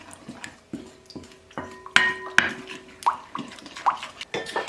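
Salt, oregano and basil are stirred together in a bowl, with a short series of close clinks and scrapes of a utensil against the dish and small soft taps in between.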